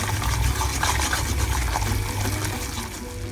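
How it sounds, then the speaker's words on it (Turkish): Olive oil is poured into corn flour in a pan while making mıhlama, producing a steady close liquid gush and sizzle that runs throughout with no voices. "çok azıcık içine zeytinyağı ekliyoruz"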